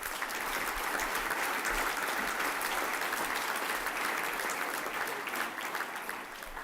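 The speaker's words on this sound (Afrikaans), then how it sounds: "ons kan die Kirsten familie 'n lekker hande klap gee vir die donasie" At a school prize-giving, the audience applauds the Kirsten family for their medal donation, with a dense, even wash of clapping that holds steady and eases off slightly at the end.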